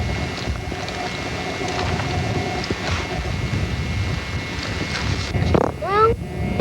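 Wind gusts over a shady trail on a farm, buffeting the microphone with a continuous low rumble that swells toward the end, and a short bird chirp cuts through near the close.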